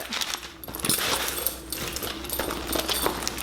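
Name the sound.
packing paper being pulled out of a bag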